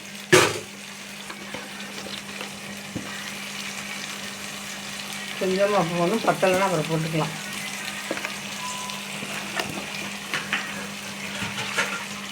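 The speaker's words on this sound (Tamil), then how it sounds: "தண்ணி நல்லா கொதிச்சு வருது" Goat brain cooks in a pan of boiling water, a steady soft bubbling and simmer that runs under a person speaking, with a brief clatter at the start.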